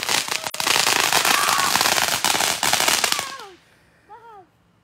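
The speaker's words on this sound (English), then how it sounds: "Absolutely loving the fireworks." Backyard fireworks crackle and pop in a dense, loud barrage for about three seconds, then cut to near quiet with a few thin whistling trails and a softer burst near the end.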